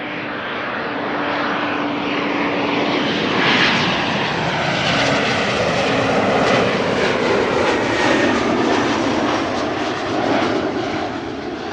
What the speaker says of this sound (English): Sounds like I'm hearing a propeller airplane